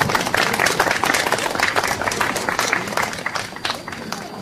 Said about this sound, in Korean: 일어나셔서 박수 받아주세요